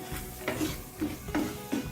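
Peas with spices stirred in a pan, a spoon scraping through in four steady strokes over a soft, continuous sizzle.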